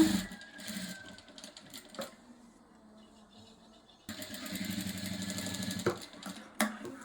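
Sewing machine stitching a puff sleeve, running in steady mechanical bursts with a quieter pause near the middle before the motor picks up again louder.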